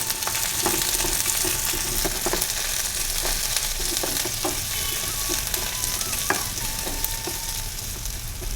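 Roughly cut onions sautéing in hot oil, a dense continuous loud sizzle with faint intermittent clicks of stirring underneath, close up and steady throughout.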